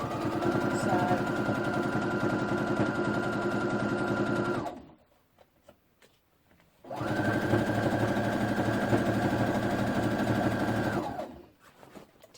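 A sewing machine stitches a simple skirt in two steady, fairly quiet runs of humming mechanical whir, separated by a pause of a couple of seconds.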